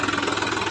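A tractor engine runs steadily at close range, a continuous low knocking rumble with mid-range clatter, with no pauses or changes in pace across the short stretch.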